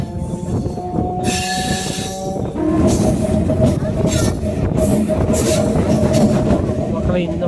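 Mayiladuthurai to Salem MEMU express train running, loud rumbling wheels and carriage noise with a sustained horn-like tone early on, a continuous rolling clatter under faint talk.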